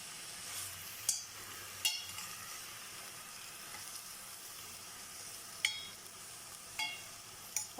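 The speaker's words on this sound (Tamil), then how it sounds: "நம்ம கீரை வதங்கின்னு இருக்குது பாருங்கள், எவ்வளோ கம்மியாகின்னு இருக்குது குவான்டிட்டி." Spinach greens for keerai poriyal sauté in a pan with a low, steady sizzle, quiet and close, broken by several sharp clinks of a utensil against the pan.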